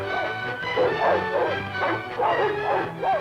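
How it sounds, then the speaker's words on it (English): Small Welsh Corgi puppy yipping and whimpering in a repeated run of short, high cries over a steady low hum, from a 16mm Technicolor film soundtrack. "He's a lonely Welsh Corgi pup named Candy"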